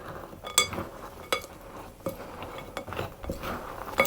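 Nuts and candied peel are stirred together in a bowl, with a spoon scraping and clinking against the sides in irregular knocks over steady, soft rustling.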